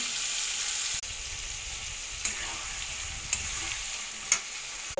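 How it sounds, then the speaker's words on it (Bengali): Capsicum and onion sizzle steadily in a frying pan while chicken curry is being cooked, with a few light taps of stirring against the pan. Nobody talks. "ক্যাপসিকামটা ভাজা ভাজা হচ্ছে।"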